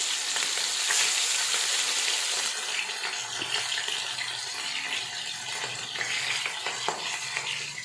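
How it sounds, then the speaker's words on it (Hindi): Chicken pieces for an Afghani chicken fry are dropped into hot oil over medium heat, giving a loud, bright, continuous sizzle and crackle with no talking. "बारी बारी करके इसको गरम ऑयल में डाल दिया जाए।"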